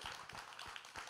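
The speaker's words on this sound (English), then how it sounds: "Another hand of applause." Audience applause at the November 2019 Full Sail University Digital Arts & Design Graduate Showcase, a short burst of steady clapping from a crowd, with the sound filling the room evenly.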